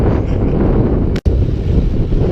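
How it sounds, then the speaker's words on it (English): Strong, steady wind buffeting a microphone while riding a bicycle on a long road loop, a continuous low roar that cuts out for a brief instant midway, then resumes just as loud. "back to riding in the wind."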